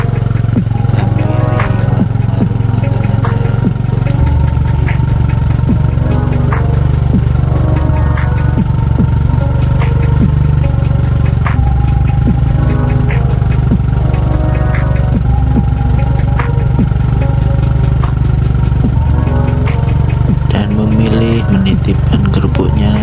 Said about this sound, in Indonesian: Berangkat jualan menaiki motornya.